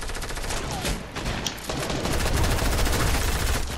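Gunfire in the video game Fortnite: a dense, loud burst of rapid automatic shots rattling on without a break, with faint voices beneath.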